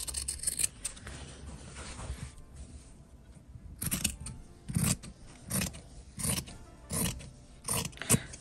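Scissors snipping through wallet-making material, a series of crisp close cuts coming in short bursts, several evenly spaced snips in the latter half with quieter rustling handling in between.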